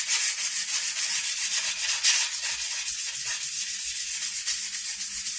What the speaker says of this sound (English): Sand that down real good